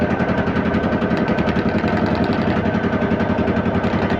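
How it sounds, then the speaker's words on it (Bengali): A ferry boat engine runs steadily and loud at a river crossing, a rapid even mechanical throb and rattle with no break or change in pace, with no talking over it. "যেমন নৌকার আওয়াজ হচ্ছে"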